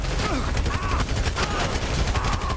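Dense bursts of automatic gunfire rattle continuously in a GTA V shootout, loud and close with overlapping shots filling the whole moment.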